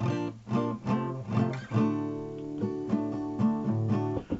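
A short acoustic guitar riff: a quick pattern of plucked notes settling into ringing chords, close and clear with no voice.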